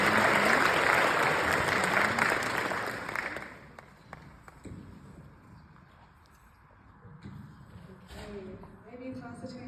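An audience at a nursing pinning ceremony applauds loudly to welcome a speaker, the clapping fading out after a few seconds, followed by murmuring and a voice speaking.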